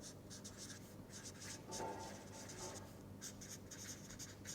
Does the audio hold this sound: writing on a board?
yes